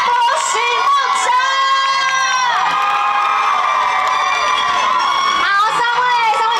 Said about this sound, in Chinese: 掌声欢迎主持群出场